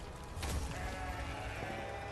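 A goat in the Goat Simulator 3 video game bleats in one long, wavering cry over steady game background noise, close and clear, with no talking.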